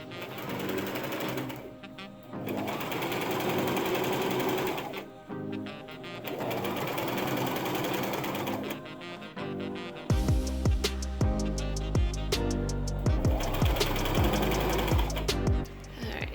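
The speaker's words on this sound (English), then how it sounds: "So now I'm gonna hem the sides and the bottom." A sewing machine hems the sides and bottom of a fabric skirt, running in several steady bursts separated by short pauses, with louder close mechanical clatter and knocks in the final stretch.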